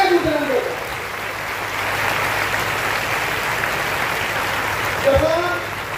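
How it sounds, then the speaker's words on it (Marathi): Audience in a school assembly claps loudly for their teachers, a broad, steady wash of applause that swells through the middle and fades near the end. "म्हणून सर्व गुरुजनांकरता जोरदार टाळ्या"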